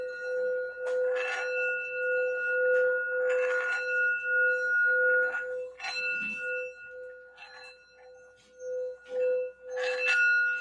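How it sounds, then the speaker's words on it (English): A bell rings several times, each strike leaving a bright, sustained metallic tone that rings out and fades, with quiet gaps between strikes. "I'm going to clear the energy here with the sound bell."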